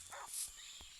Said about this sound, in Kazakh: Ит бар екен мына жерде.